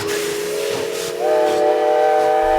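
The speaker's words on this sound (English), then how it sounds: "We all recognize the sound of bells ringing and train engines roaring to life." A steam train whistle blows a steady, hissing multi-toned blast that swells slightly louder partway through, loud and continuous.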